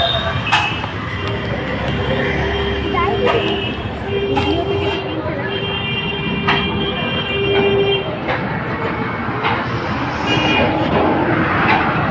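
Train noise at Barrackpore railway station: a steady loud rumble of rolling carriages with squealing wheels and metallic screeches, busy ambient crowd noise underneath, continuous throughout.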